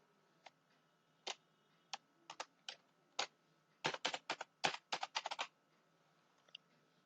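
Typing on a computer keyboard while editing cells in an Excel spreadsheet: scattered single key clicks, then a quick burst of rapid keystrokes, close and crisp against a quiet room.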